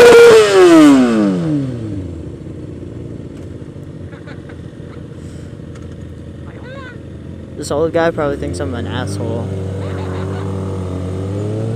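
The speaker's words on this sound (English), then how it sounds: "I was revving in first gear the whole time" A motorcycle held in first gear on a group ride, its engine starting high and falling away, then droning steadily at raised revs close to the mic, with someone talking over it.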